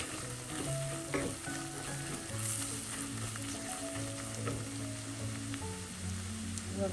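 Fish curry masala for black pomfret curry frying and being stirred in a pan, a soft steady sizzle with occasional spoon scrapes, fairly quiet and continuous with no voices.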